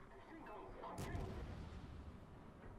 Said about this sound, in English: I unfortunately eat a huge, I think, battleship salvo.